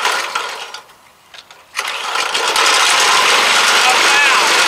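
A Legend Force walk-behind weed eater engine sputters, then revs up and runs loudly with a steady high whine, close by.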